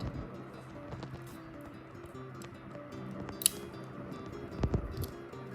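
Scissors snip through paper quilling strips for a floral motif, a few quiet, close clicks and crisp cuts spaced irregularly over a soft room background, with no speech.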